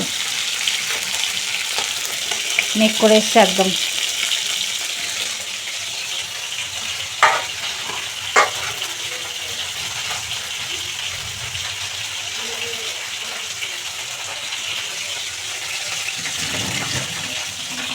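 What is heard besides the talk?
fish frying in pan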